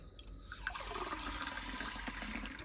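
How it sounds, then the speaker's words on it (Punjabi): Water runs from a tap into a container in a faint, steady gush and trickle, with no talking. "ਟੂਟੀ ਥੋੜੀ ਜਿਹੀ ਹੋਰ ਚਲਾ ਫਿਰ ਛੇਤੀ ਭਰ ਜੂਗਾ"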